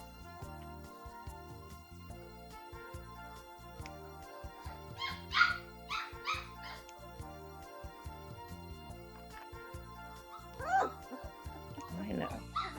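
Young puppy, likely a Great Danoodle, whimpering and giving sharp little yips in a few short bursts, close by, while someone talks to it softly.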